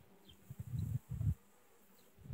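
Honeybees buzzing over a brood comb in a weakened colony at a Romanian apiary, heard close up as two or three low, swelling bursts of buzzing with a quieter hum between them.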